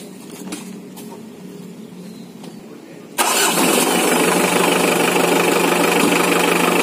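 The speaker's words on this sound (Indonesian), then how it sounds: "Kita coba hidupkan mesin ya lur." A diesel MPV engine cranks briefly over a quiet background, then catches on the first try and settles into a loud, steady, slightly clattery idle that holds to the end.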